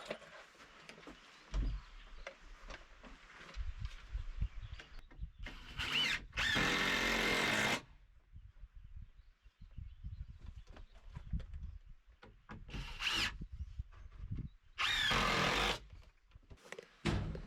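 Cordless drill driving screws into a wood wall panel of a tiny log cabin: two loud, sustained bursts of a few seconds each, separated by quieter handling, tapping and movement noise.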